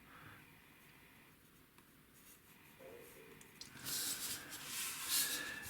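A pencil drawing a square on paper, with soft scratchy strokes close by that grow louder and brighter in the last couple of seconds.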